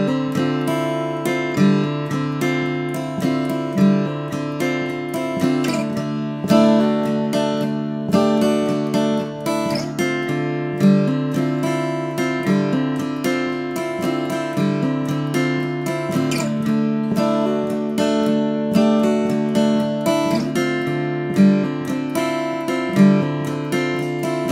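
An acoustic guitar strums the opening chords of a song, a steady rhythmic pattern with ringing chords and regular accented strokes, played alone and close for about twenty-five seconds without singing.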